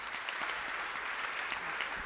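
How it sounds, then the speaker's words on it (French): Steady applause from an awards-night audience of finance executives, dense and continuous for about two seconds with no voices over it. "On peut applaudir Citalide."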